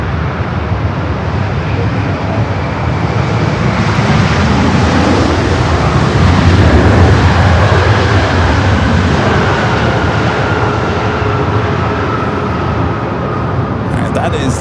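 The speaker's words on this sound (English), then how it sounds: "that is the A350-900, the flight to Gibbon from Tokyo Haneda" An Airbus A350-900 jet arriving from Tokyo Haneda at LAX gives a loud, steady broadband engine roar lasting throughout, with a mid-clip swell as it passes near.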